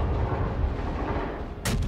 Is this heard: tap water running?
no